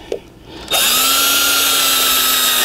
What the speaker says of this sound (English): I'm gonna put me a little hole